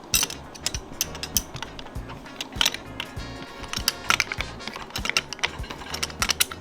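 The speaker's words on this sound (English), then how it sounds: "I hold down the coilover and I start to tighten this up" A spanner tool tightens the spring collar on a D2 Racing coilover for a G37, giving close, rapid metallic ratcheting and clicking in an uneven rhythm over about six seconds.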